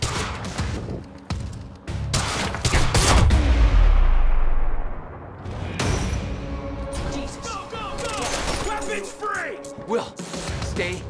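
Gunfire in the Quantum Break video game: sharp bursts of shots and a heavy booming crash, heard amid shouting voices and mechanical clatter, loud and chaotic throughout.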